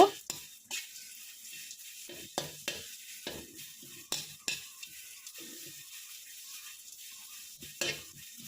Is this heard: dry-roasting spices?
yes